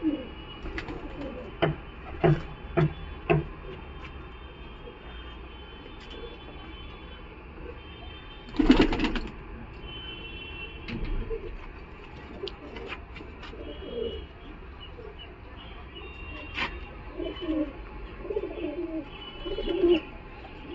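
Giribaz and colour Madras pigeons at a crowded street pigeon market in Galiff Street, Kolkata, coo in low repeated bursts over about twenty seconds, with scattered sharp clicks and knocks around them.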